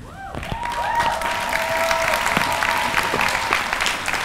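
An audience at a Salem State University convocation claps, loud and close, a dense burst of applause with a few whistles or squeaks mixed in.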